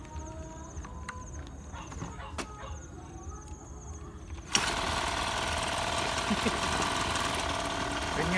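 A Honda GX50 four-stroke brush cutter engine, three and a half years old, started while upside down: quiet clicks and a single pull, then the engine catches with a sudden jump in loudness into a steady close buzzing idle.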